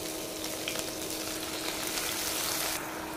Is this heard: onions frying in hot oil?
yes